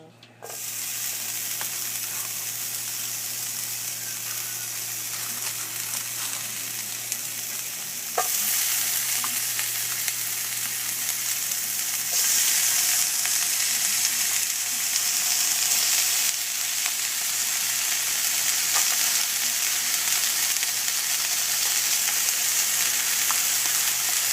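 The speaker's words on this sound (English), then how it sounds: "So the pan is ready, and I'm going to first, I'm going to put a lot of onions" A generous batch of onions fries in a hot pan, a loud, steady hiss and crackle that starts abruptly and grows brighter partway through, continuous throughout with no pauses.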